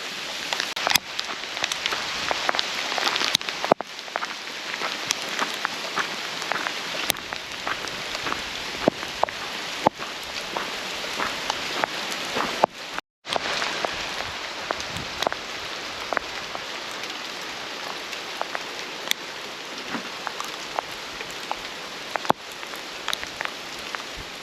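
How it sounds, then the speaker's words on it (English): Hail falling near Mount St. Helens, a steady dense patter with sharper individual hits throughout, continuous and fairly loud, with no talking. "it also hails, right?"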